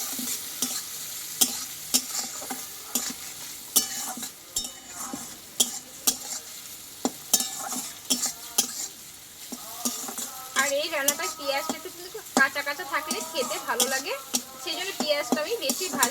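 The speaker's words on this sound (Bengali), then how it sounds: "এইবার দেবো আমি হলুদ গুঁড়ো একটু হলুদটা দিয়ে এবার আমি ভালোভাবে টমেটো আর পেঁয়াজটা একটু ভেজে নেবো হালকা করে" Tomato and onion frying with turmeric in a pan, stirred with a utensil: steady sizzling under repeated scraping strokes, close and clear, with a faint voice toward the end.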